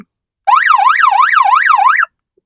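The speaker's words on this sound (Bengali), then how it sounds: "হর্ন গুলো সব স্পেশাল করা আছে তারপরে পুলিশ হর্ন যেটা থাকে এগুলো সব লাগানো আছে" A police-style horn fitted to a 2021 Suzuki Gixxer SF motorcycle wails in one loud, close burst of rapid rising and falling warbles, about one and a half seconds long, with silence on either side.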